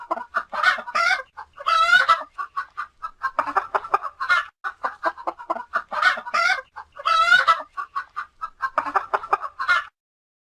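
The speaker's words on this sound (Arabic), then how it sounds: "دجاجة." A chicken clucks close up in a quick series of sharp, repeated calls, loud and clear against silence, in short rhythmic bursts for about ten seconds.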